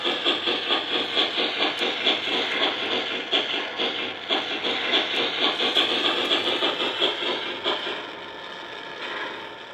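Rhythmic, evenly spaced chuffing from a 3rd Rail O-scale model of a Pennsylvania Railroad Q2 steam locomotive, number 6131, with a steady mechanical hum underneath. It is close and moderately loud, with no voices.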